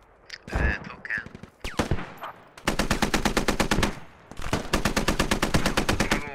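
Rapid machine-gun bursts in the Squad military shooter, loud and close, firing in two long sustained strings of evenly spaced shots after a few scattered single reports.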